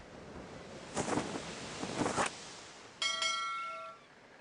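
Ship's bell rung in a sailing-themed video game: two rustling whooshes of a sail catching wind, then a single clear metallic bell strike that rings and fades.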